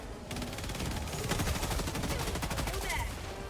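Rapid automatic gunfire from Helldivers 2, shooting at a monster's mouth, rattles continuously and loudly throughout, forming a dense, sustained burst of shots.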